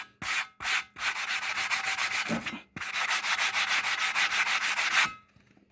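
Sandpaper rubbed over aluminum in quick back-and-forth strokes, close and scratchy, with a few short opening strokes and then a long steady run before stopping.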